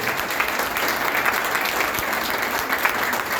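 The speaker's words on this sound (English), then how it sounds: "A massive round of applause." An audience at a celebrity lunch gives sustained, dense applause, loud and continuous throughout with no talk over it.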